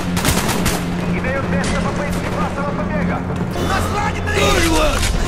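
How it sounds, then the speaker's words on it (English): A minigun in Call of Duty: Black Ops roars in sustained rapid bursts amid surrounding battle gunfire and explosions, with shouted voices breaking through the din. "Grab that minigun!"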